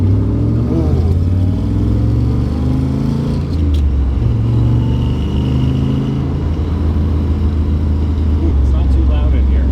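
A 1963 Corvette C2 split window coupe driven on the road, with a deep, steady engine rumble and low drone filling the cabin, close and loud, while people talk over it.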